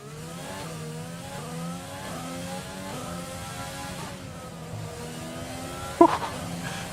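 Formula 1 car engine in the F1 2020 racing game at Monaco, with a worn turbocharger, revving and shifting through gears in a steady rising-and-falling drone, a sharp knock near the end, no talk.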